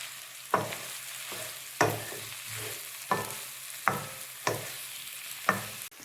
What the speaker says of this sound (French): Maintenant, on va mélanger pour pas que ça reste que sur le haut.